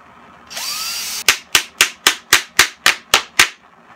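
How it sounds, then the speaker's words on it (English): A small hammer drives ring shank nails into wood on a desk build, with nine sharp, evenly spaced strikes following a brief whirring tool sound, each blow loud and close with no voice over it. "So I'm using a smaller hammer, so it's a lot easier and less bending of nails."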